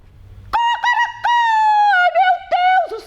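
A rooster crows loudly and close by, a series of strong harmonic calls with short breaks between them, set against a quiet background after a brief soft opening.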